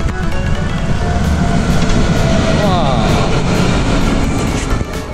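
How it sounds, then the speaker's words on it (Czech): A Polish Pesa tram in Tricity, Poland, rumbles past close by, a loud steady roar of wheels on rails with a rising metallic whine, lasting the whole stretch. "Krásné polské tramvaje"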